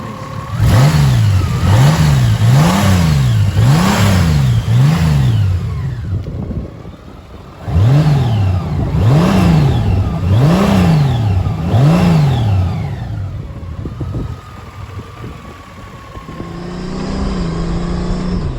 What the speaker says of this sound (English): flat 6 engine, 125 horsepower, 170 newton meters of torque, and they just sound the business.